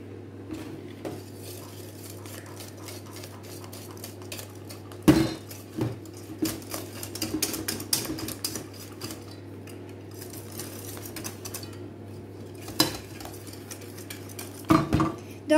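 Whisk scraping and clinking against a bowl while mixing chocolate fondant cake batter, a steady soft stirring texture broken by sharp metallic taps at the rim, close and fairly quiet with no talking.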